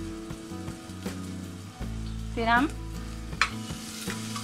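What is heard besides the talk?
onions frying in oil in a pan for dal tadka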